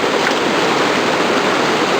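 A creek current rushes along a trail crossing, a steady, full wash of flowing water close by, uninterrupted and without voices.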